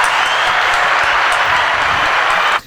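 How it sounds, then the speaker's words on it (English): Audience applause fills the room at a podcast taping, a dense, steady clatter of many hands clapping loudly and continuously, then cutting off abruptly at the end. "So everyone give him a round of applause."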